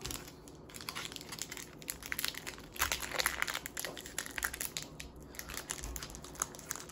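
A foil wrapper on a Pokémon Sun and Moon trading card pack is handled and opened, giving close, irregular crinkling and crackling with a few louder tearing bursts in the middle.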